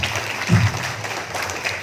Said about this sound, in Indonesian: tepuk tangan untuk beliau